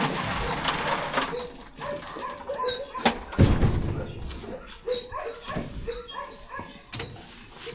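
A dog gives short whimpers and yelps close by, mixed with soft cooing-like whines and occasional thumps in a quiet indoor room.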